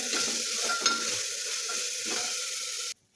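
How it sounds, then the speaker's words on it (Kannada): Chicken masala is stirred in a frying pan, a close steady sizzle with rhythmic scraping strokes of the spoon, ending abruptly. "ಇಷ್ಟು ಹಾಕ್ಕೊಂಡು ಮತ್ತೊಂದು ಸರ್ತಿ ನಾನು ಚಲೋ ಮಿಕ್ಸ್ ಮಾಡ್ಕೊತೀನಿ"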